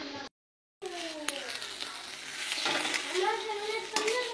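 Ground bean paste frying in hot oil in a wok, a steady close sizzle with stirring scrapes, broken at the start by a brief gap.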